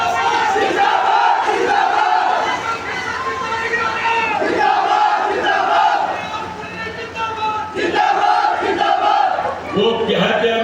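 A large crowd at a BJP political rally in Jind roars and cheers loudly and continuously, swelling in waves of massed shouting across the whole stretch.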